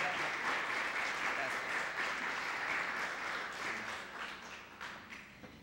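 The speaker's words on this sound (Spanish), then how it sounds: "considero que ese aplauso que han brindado a nuestra distinguida disertante es más que decirle gracias a Cian." Audience applause after a literary talk at Club Guatemala, a full, sustained round of clapping from a roomful of listeners that gradually thins toward the end, with some voices underneath.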